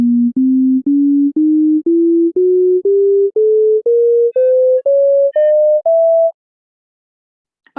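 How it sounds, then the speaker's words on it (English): Electronic pure tones step upward through the Bohlen-Pierce scale, thirteen even steps rising one after another in a regular rhythm, clean and loud, then silence. "there's a new scale called the Bolin-Pierce scale."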